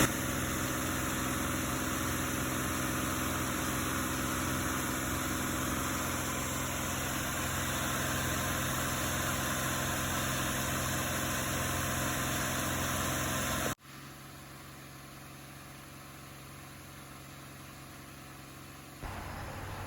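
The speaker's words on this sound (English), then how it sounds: "Just let the car run for a little while. Idled it up, idled it down." Nissan Pathfinder engine idling after a heater hose assembly install, a steady loud hum up close that cuts abruptly to a quieter drone, with no talking.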